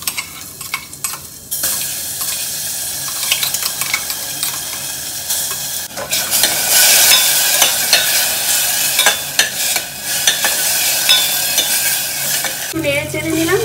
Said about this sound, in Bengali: নেড়ে চেড়ে নিলাম, দিয়ে জল দিয়ে দিচ্ছি।